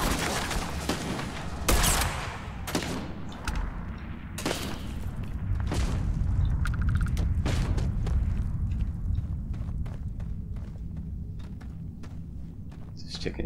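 Gunfire in combat in the Starfield video game: sharp, loud shots in an irregular sequence with booming impacts and footsteps, while a person talks at times.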